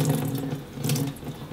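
Rinse water is poured off a jar of home-grown sprouts into a kitchen sink, giving a steady splashing gush that swells and eases over about a second and a half, with no talking.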